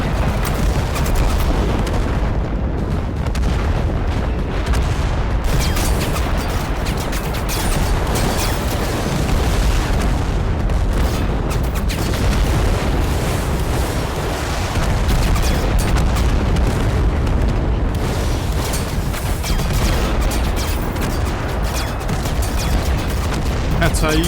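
Artillery firing and explosions in the wartime strategy game Total Conflict: Resistance, a dense, continuous barrage of booming blasts and gunfire that stays loud and relentless throughout, with brief dips between volleys.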